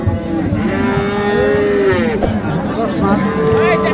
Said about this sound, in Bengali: এখানে একটা ছোট্ট শাহিওয়াল জাতের বকনা বাছুর আছে